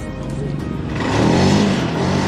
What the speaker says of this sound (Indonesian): membuat sebuah permainan pengetahuan bunyi mesin knalpot motor